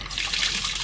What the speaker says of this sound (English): Fill the sink up.